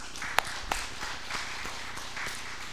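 A church congregation applauding during a Sunday sermon, a faint, steady patter of clapping with a couple of sharper claps standing out, heard from a distance in the hall.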